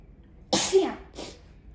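A single close, sharp sneeze with a sudden burst, followed by a softer, breathy trailing sound.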